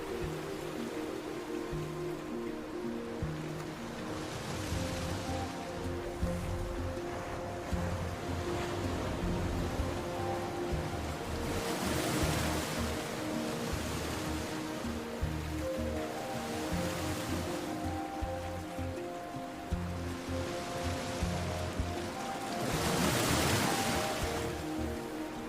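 Ocean waves wash continuously at a distance, with a broad steady hiss and low rumble and periodic surges as swells break every few seconds.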